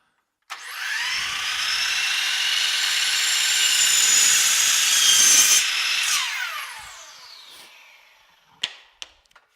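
A Ridgid chop saw cuts through maple hardwood in one continuous loud pass lasting about six seconds, the blade whining up and then spinning down, followed by a few sharp clunks.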